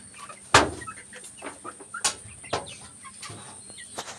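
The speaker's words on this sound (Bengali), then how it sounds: "নতুন মুরগিতে একটু ভয় পাচ্ছে।" Newly brought-in Egyptian Fayoumi hens cluck and squawk in short, uneven bursts close by in a coop. Sharp loud calls break out among softer nervous clucking, with no voices.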